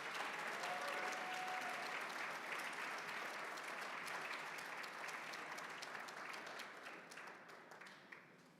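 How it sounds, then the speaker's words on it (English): A banquet audience at a golf awards dinner claps for award winners, sustained applause from a large room that gradually fades. "Give them a round of applause, please."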